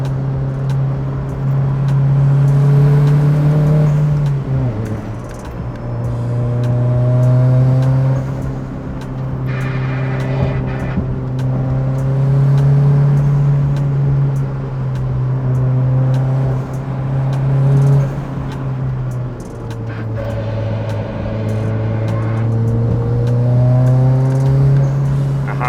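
Turbocharged Honda Fit driving hard on a mountain touge road, its engine droning steadily and loudly throughout, with pitch dipping and rising as it shifts and revs through corners around five and twenty seconds.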